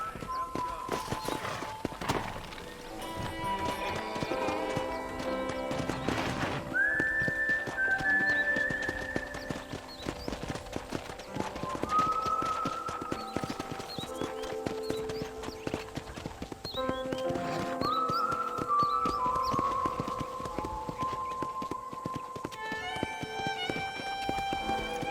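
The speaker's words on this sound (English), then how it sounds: "let's see if you can still ride a horse." Horse hooves clip-clop steadily while riding around a ranch in the Red Dead Redemption video game, with occasional neighs, game music and ambience layered over the ongoing trotting throughout.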